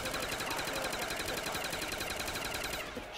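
Rapid automatic gunfire from a Call of Duty zombies match on the Ascension map keeps up a steady, fast rattle through the whole stretch before cutting off at the end.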